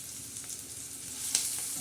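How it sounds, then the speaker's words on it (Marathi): Garlic, cumin and curry leaves sizzle in hot oil for a tempering, a steady soft crackle close by with a few small pops and light stirring. "आता आपण कढीपत्ता टाकलाय आता हे मस्तपैकी फ्राय होत आहे"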